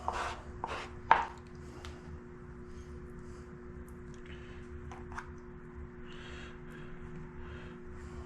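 Homemade goat cheese being chopped, a few quick soft knife taps at the start and again around the middle, then quiet handling over a steady low hum.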